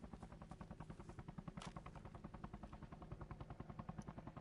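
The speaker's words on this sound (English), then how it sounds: "that's US chopper" A US military helicopter in a PS5 shooter game, its rotor thumping in a steady rapid beat throughout, loud and close, with a brief sharp burst partway through and no talk.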